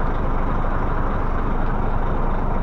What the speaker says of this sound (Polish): No i to jest dźwięk ciężarówki.